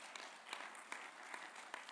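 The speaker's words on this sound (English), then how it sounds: "please give a round of applause for our team leaders" Audience applause at a safety summit plenary session: steady, dense clapping from a crowded room, moderately distant, lasting throughout with no speech over it.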